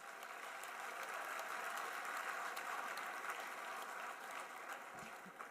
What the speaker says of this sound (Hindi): उनको भी एक बार जोरदार ताली बजाएं।